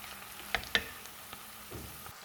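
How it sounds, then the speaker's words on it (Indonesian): Minced meat and onions stir-fry in a pan with a faint, steady sizzle, broken by two sharp clicks of a utensil against the pan. Quiet and close, with no talking. "kita masukkan daging cincangnya. Kita tumis ya, sampai setengah matang juga ini."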